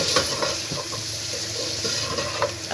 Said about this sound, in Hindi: चिकन लहसुन अदरक जो है वो अच्छे से ब्राउन कलर आ चुका है, अच्छे से ये फ्राई हो गए हैं